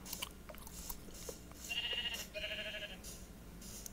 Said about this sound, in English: Aha, it's a sheep.